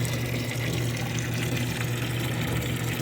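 A parts washer pump runs water steadily through a brand-new hose, a constant close watery rush with a low motor hum underneath and no talking.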